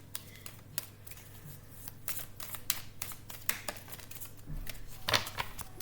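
Tarot cards are shuffled and drawn: a quiet run of soft riffling, rustles and sharp little card snaps, steady throughout, with one brighter flick near the end.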